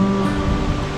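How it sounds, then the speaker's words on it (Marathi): Steady broadband rush of Krang Suri waterfall falling below a clear backwater pool, heard as a constant loud roar with no break and no voices. "त्या तिथे खाली वॉटरफॉल पडतोय"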